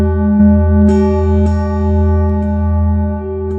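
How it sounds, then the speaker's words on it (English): Big, expensive church bells sounding a sustained, droning hum with a few faint strikes over it, steady and fairly loud, with no voices. "expensive church bells which sound like this."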